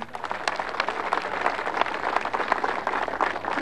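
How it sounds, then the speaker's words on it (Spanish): Audience applause at a school assembly in Cochabamba, a steady dense patter of many hands clapping throughout, moderately loud with no pauses. "Fuerte los aplausos, que se escuche."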